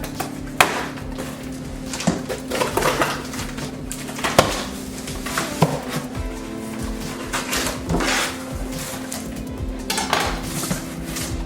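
Butcher knife cutting open a cardboard mystery box, a series of close scraping slices and sharp knocks with clattering handling in between, no talk.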